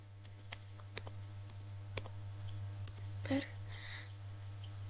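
A root password is typed on a computer keyboard, a few sparse, distinct key clicks spread unevenly, close and fairly quiet over a steady electrical hum, ending with a small cluster of louder taps; no talking.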